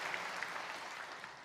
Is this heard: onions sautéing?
no